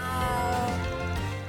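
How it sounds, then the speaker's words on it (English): A small cat character in the video game Trails Through Daybreak gives a single drawn-out, slightly odd-sounding meow, loud and close, with no talking over it. "the way he meows is a little weird"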